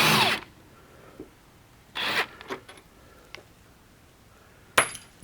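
An impact wrench rattles loose the thread-locked hub bolts on a C5 Corvette, three close bursts of different lengths spaced over a few seconds with quiet gaps between them.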